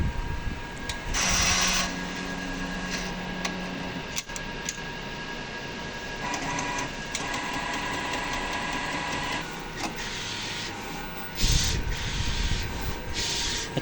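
A sublimation printer runs a print head cleaning cycle, giving off mechanical whirring and humming with a few louder bursts and brief clicks, steady and close throughout.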